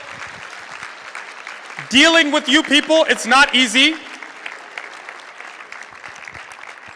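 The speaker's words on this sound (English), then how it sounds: "Give him a round of applause." Audience applause at a 2015 gala fills the room for the evening's MC, a steady clatter of clapping as someone talks over it for a couple of seconds.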